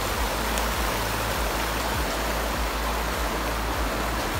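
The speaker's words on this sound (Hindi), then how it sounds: "ग्लेशियर पिघल रहे हैं, तो ये पानी ऊपर से आ रहा है" A mountain stream fed by melting glacier water rushes past nearby in a loud, continuous roar of flowing water, with no voices over it.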